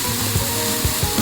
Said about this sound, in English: let that saute and cook up for a while